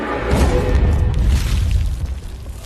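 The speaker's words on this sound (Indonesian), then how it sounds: "Lin kemudian datang dan memasukkan bom kepada Gluttony" Bomb explosion in the Fullmetal Alchemist anime, a loud, deep rumbling boom that swells and then tails off into a dull roar.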